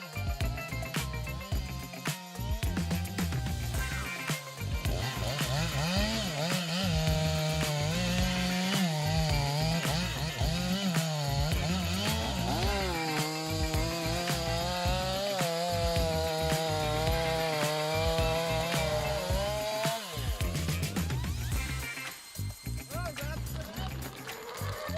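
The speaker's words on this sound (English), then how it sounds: "A perfect combination of humans and a giant woodcutting machine with an impressive capacity of 500 horsepower." A giant 500-horsepower tree-felling machine cuts through a huge trunk about 1.3 meters across, its saw howling loudly with rising and falling pitch as it bites into the wood, under a narrator's voice and music.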